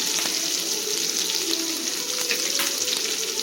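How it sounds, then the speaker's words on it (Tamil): Onions sautéing until golden in a pan for mango and drumstick sambar: a constant, even sizzle and crackle, close and fairly loud, with no pauses. "கொஞ்சம் நல்லா பொன்னிறமாக ஆகிற வரைக்கும் வெங்காயம் வந்து நல்லா வதங்கணும்"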